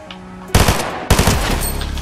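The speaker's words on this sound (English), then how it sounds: "Gunfire." Bursts of Fortnite gunfire, played with no gun attachments: a loud, dense volley crackles for about half a second, stops briefly, then a second sustained rattle of rapid shots runs to the end.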